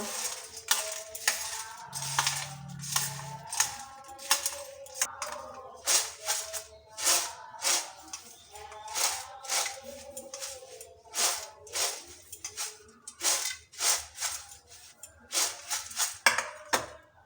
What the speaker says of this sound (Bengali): বানিয়ে রাখা মশলাটা এখন ভালো করে আবার মিশিয়ে নেব